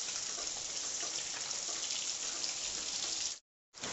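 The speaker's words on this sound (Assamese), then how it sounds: "একদম বাহিৰত পূৰা দপদপীয়া বৰষুণ মানে আকৌ আৰম্ভ হৈ গ'ল" Heavy rain falls steadily outdoors in a continuous dense hiss that runs alone for several seconds, broken by a brief silent gap near the end, while meat fries nearby during a rainy-day cooking session.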